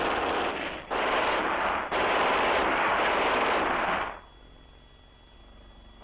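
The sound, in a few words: platoon machine gun fire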